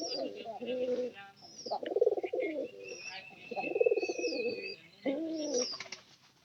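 A pure white pigeon at a straw nesting spot coos close by in several repeated throaty phrases, with faint chirps and a thin whistle in between.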